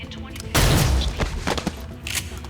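A burst of gunfire in the video game XCOM: Chimera Squad, a loud close volley of overlapping shots followed by scattered sharper cracks and rumbling impacts.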